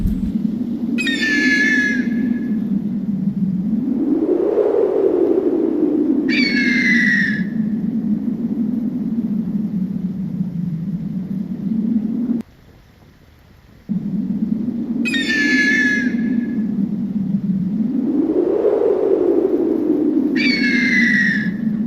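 Repeated harsh, rising squeals from a hawk or eagle near its nest deep in a forest, four bursts spaced several seconds apart over a steady low roar, with one brief drop to near-silence midway.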